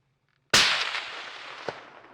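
A single loud rifle shot fired at a bull elk cracks suddenly out of near silence and rolls away in a long fading echo, with a faint thump following a second later.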